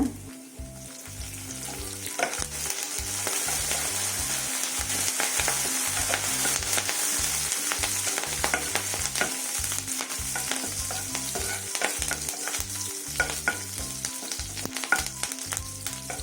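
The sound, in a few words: garlic and curry leaves frying in a pan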